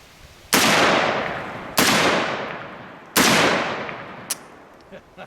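Three loud rifle shots from a CMMG MK47 Mutant fitted with a muzzle brake, spaced about a second apart, each a sharp crack with a long decaying echo, followed by a few faint clicks.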